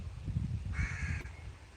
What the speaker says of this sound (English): We've got crows above us.